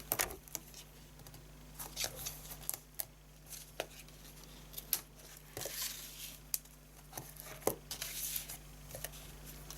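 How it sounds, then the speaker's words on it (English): Sticky tape pulled off a roll and pressed along the edges of a small paper cookie box, giving quiet intermittent tearing and crinkling bursts close by with no talk. "So I get my sticky tape, and we're going to put tape across all these edges."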